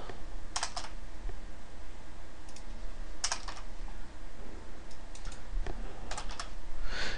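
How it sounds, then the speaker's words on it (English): Fingers type quickly on a computer keyboard, with scattered bursts of sharp key clicks over a steady background hum and no talking. "Seems like I typed a little faster than the auto type."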